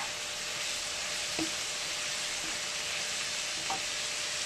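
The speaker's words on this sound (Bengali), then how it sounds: "বন্ধুরা, এবার চিংড়ি মাছটা আমি দিয়ে দিলাম মধ্যে।" Shrimp frying in a hot pan, a steady, close sizzle with a few soft knocks as the pieces are stirred.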